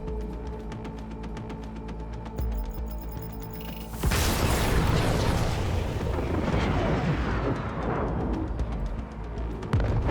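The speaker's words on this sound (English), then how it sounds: "Panam needed to resort to a rocket launcher to help us bring the AV down." In the video game Cyberpunk 2077, a rocket launcher blast brings down an AV flying vehicle: a sudden loud explosion at mid-clip followed by a long roaring, crashing rumble over game music.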